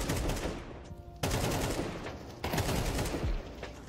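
Rapid automatic rifle fire from an AK in the game Counter-Strike 2, loud and close, coming in three long sustained bursts with brief breaks between them.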